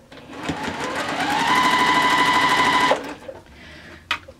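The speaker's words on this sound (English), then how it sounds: "We're sewing on this end, so we're pinning." Sewing machine stitching a pinwheel quilt block, one continuous close run of about three seconds with a steady whirring whine that rises in pitch, then stops, followed by a couple of small clicks.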